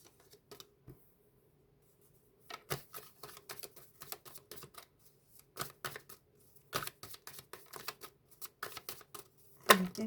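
Oracle cards are shuffled in quick, crisp bursts of riffling and flicking, close and fairly quiet, with short silent pauses between the rounds.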